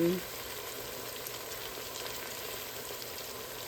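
Curry leaves, mint and coriander leaves sautéing with potatoes in a pan, a soft continuous sizzle and crackle, fairly quiet and even, with a brief voice at the very start.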